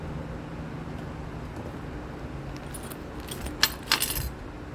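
Small metal pins for a 1/25 scale chassis kit clink together as they are handled, a couple of bright jingling bursts near the end after a quiet stretch with a low steady hum in the background.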